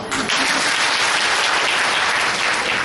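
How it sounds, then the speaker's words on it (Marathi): Audience applause at a workshop on saving the girl child: a dense, steady burst of clapping from a roomful of people, loud and close, lasting a few seconds with no talk. "टाळ्या वाजूया"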